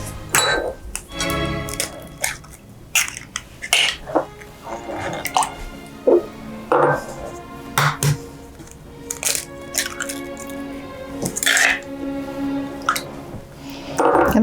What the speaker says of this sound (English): I'm using a whisk to make sure that those eggs get broken down and incorporated well into the batter